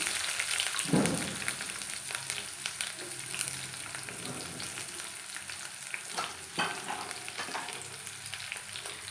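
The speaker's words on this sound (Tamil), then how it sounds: "கடுகு போட்டுக்கலாம் ஜீரகம் போட்டாச்சு வெந்தயம் சேர்த்து சேர்த்துக்கலாம் வெங்காயம் சேர்த்துக்கலாம்" Mustard seeds, cumin, fenugreek and onion frying in hot oil for a kara kuzhambu, a continuous close sizzle with occasional crackles and stirring scrapes throughout, no voices.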